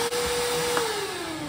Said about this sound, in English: I'm gonna vacuum out back here first.